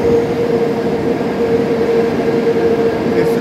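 The Train Jaune, a yellow train, roars steadily through a long tunnel, a loud and continuous rumble with a sustained tonal hum running through it and no voices heard.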